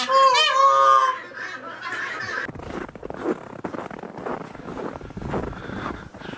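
A peahen, peacock or turkey answers a whistle with a loud, harsh, wavering call lasting about a second, then gives way to quieter scuffling and rustling nearby.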